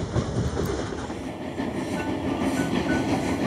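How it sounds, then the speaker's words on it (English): A train rumbles along the tracks close by, wheels clacking in a steady rolling rhythm with a faint metallic whine above the noise. "Then Katie took George, Pete, and the works train back to the yard."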